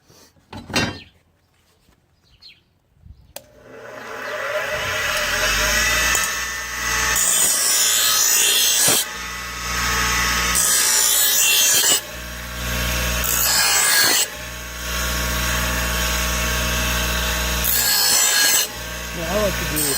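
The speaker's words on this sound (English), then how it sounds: "we're going to go ahead and sharpen these blades and get them back onto the mower" A hand file sharpens lawn mower blades during spring mower maintenance, producing loud, harsh, gritty rasping strokes that repeat in long sustained passes after a quiet start.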